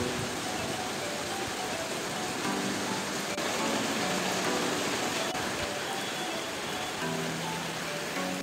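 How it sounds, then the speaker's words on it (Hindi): Heavy monsoon rain pours steadily in the hills of Srinagar Garhwal, a dense, continuous hiss of downpour that stays constant and close throughout, with no talking. "बरसात झमाझम हो रही है, आप देख सकते हैं बहुत ठंडा हो चुका है यहाँ पर।"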